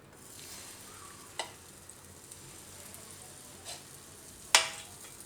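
Gujarati raw papaya pudla batter hits a hot pan with a soft, steady sizzle and hiss, punctuated by a few faint clicks and one sharper tap near the end.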